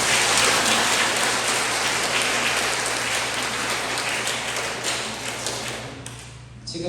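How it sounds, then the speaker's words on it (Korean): Dense, steady clapping from a church congregation during a Catholic Holy Spirit lecture in Daegu fills the space at moderate level, a rain-like patter that thins and fades toward the end. "박수 한번 쳐보세요, 친구들."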